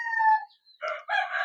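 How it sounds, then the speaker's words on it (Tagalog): A 10-month-old stag gamecock of medium to high station, a McLean Hatch and Sweater cross, crows loudly and close up in two or three drawn-out bursts separated by a short pause. "this is a 10 months old na stag"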